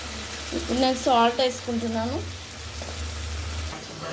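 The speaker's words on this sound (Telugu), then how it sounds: "పచ్చిమిర్చి, ఆనియన్స్, ఆలుగడ్డ ఇవన్నీ వేసుకొని చక్కగా వేయించుకుంటున్నాను. చూడండి వేగుతుంది." Green chillies, onions and potatoes fry in a pan with a steady, close sizzle over a low hum, while a voice briefly rises above it.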